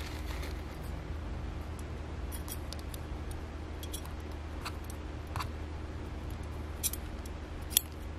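Scissors snip through ribbon in quiet, sparse clicks, a few isolated cuts close by against soft room noise, with one sharper snip near the end.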